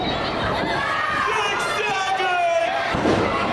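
A crowd at a wrestling show chatters and shouts steadily in an indoor venue, a constant murmur of voices with scattered louder calls.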